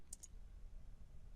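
Two quick, sharp mouse clicks land close together right at the start as Save is clicked in Photoshop, followed by quiet room tone.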